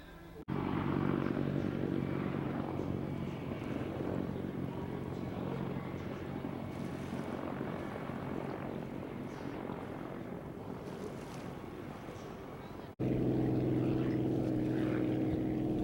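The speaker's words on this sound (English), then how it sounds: "We'll be back a little bit more hydroplane racing coming right up after this." Hydroplane racing boats at Seafair 2014 roar past in a sustained, loud engine drone with a broad rumbling wash, steady for most of the stretch, then cutting abruptly into a louder burst near the end.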